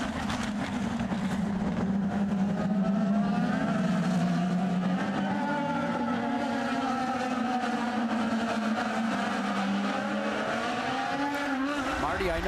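IndyCar race cars at the 2011 Honda Grand Prix of St. Petersburg street circuit roar through a double-file restart, a dense layered engine wail rising and shifting continuously for the whole stretch, with commentary over the top.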